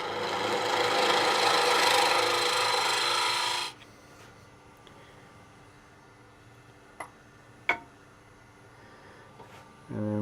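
A spindle gouge cuts cherry wood spinning on a lathe, giving a loud, steady rasping shave for a few seconds before stopping, followed by quiet shop hum with a couple of faint knocks and a brief return of cutting at the end.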